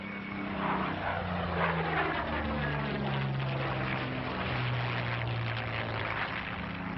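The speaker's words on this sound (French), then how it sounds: "Ce Curtiss P-40 par exemple est peu connu en Europe où il demeure le seul exemplaire en état de vol." A Curtiss P-40 propeller fighter plane flies with a steady, loud engine drone and shifting propeller tones that swell and fade slightly throughout.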